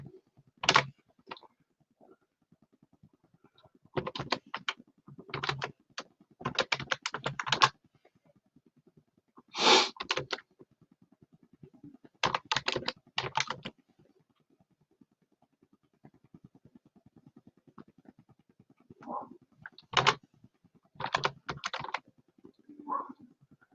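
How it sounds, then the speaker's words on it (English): Someone types on a computer keyboard in irregular bursts of quick, close clicking keystrokes, separated by short quiet pauses. "Sorry guys, I'm not a fast typer."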